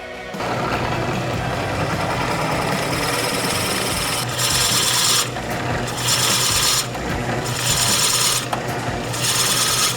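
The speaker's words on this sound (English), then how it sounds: "I'm going to take it to the drill press and drill a recess in the bottom" A drill press with a Forstner bit bores a recess into the bottom of a turned wooden candlestick piece, making a steady loud grinding rasp that swells louder in several bursts, with no voices.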